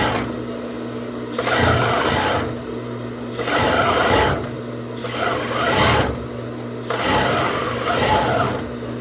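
A sewing machine topstitches the side of a fitness-shorts waistband with a presser-foot attachment, running in three or four steady bursts of a few seconds each with short pauses between, close and fairly loud with no talking.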